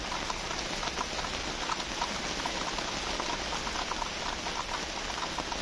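Rain falling steadily on a Mercedes camper van, a dense, even patter that is soft and constant with no voices.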